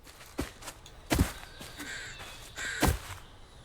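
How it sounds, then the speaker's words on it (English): Crow-like bird calls in the video game South of Midnight, three or four harsh caws spaced about a second apart, fairly close over a quiet outdoor background. "There's a bird making some sounds."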